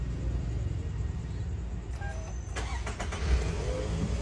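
A Toyota Vellfire 2.4 starts up with a brief starter crank that settles into a low, steady idle rumble, close by and fairly quiet with no talking.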